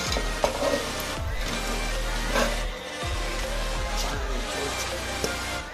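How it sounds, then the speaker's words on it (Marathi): Potato poha goes into hot tempering in a pan and sizzles loudly and steadily, with repeated scraping stirs of a spatula against the pan throughout. "आपले फोडणी शिजली आहे, तर आता हा आलू पोहा टाकायचा।"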